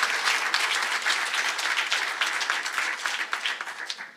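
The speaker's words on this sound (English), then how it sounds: "let's give them a very large round of applause" A research awards ceremony audience applauds a round of professors, with dense, loud, sustained clapping from many people that fills the hall and begins to thin out toward the end.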